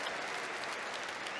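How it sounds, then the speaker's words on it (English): An arena crowd at a PDC European Tour darts match in Riesa applauds a treble, a dense, even wash of clapping heard somewhat distant and steady throughout. "every treble from Thomas Seyler is getting a round of applause here from this audience"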